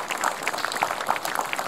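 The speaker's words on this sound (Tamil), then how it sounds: "பெரிய கைத்தட்டல் கொடுக்கலாங்க." Brief burst of audience applause at a lively children's fun show, a dense patter of clapping filling the short moment without speech.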